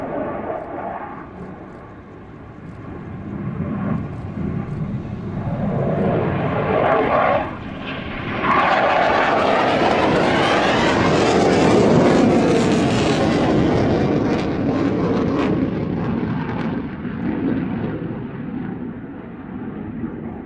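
An aerobatic multi-role airplane flies consecutive aileron rolls at an airshow, its engine roaring loudly overhead, swelling and dipping as it maneuvers before fading slightly.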